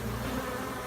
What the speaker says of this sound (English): Bees continue to come out of the cone.